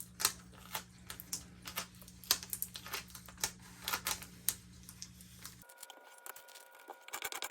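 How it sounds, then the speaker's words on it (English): A transfer sheet peeled slowly back off a Dollar Tree chalkboard sign, giving a series of faint, close crackling ticks in an uneven rhythm, quiet and alone. "grab a corner and slowly peel it back."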